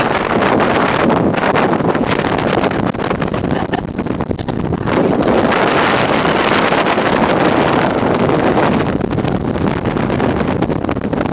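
Strong gusty wind roaring and buffeting the microphone outdoors in Vancouver, loud and continuous for the whole stretch with surging swells.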